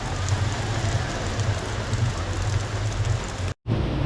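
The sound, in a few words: rain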